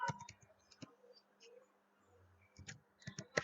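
Computer keyboard typing comes as short, sparse clusters of quiet key clicks with gaps between them, close and faint, with no speech.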